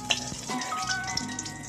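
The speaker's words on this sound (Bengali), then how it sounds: "তেলটা গরম হয়ে যাচ্ছে" Oil heating in a pan before fish curry, a soft continuous sizzle with faint crackles, close and steady, no voices.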